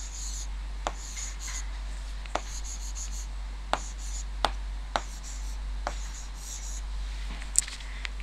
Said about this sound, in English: So we will write